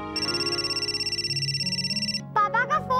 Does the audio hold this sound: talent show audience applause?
no